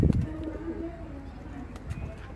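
A Rampuri pigeon coos in low, soft rolling calls. A couple of thumping knocks sit near the start and end, and a voice talks faintly in the background.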